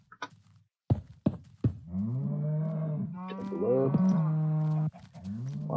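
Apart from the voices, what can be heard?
cows mooing in the video game Minecraft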